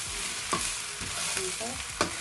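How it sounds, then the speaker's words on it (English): Cooked rice and leftover chicken are stirred in a hot pan for fried rice, a steady sizzle under scraping strokes of the utensil, with sharper knocks every half second or so. "So adding in the cooked rice. And just start mixing all together."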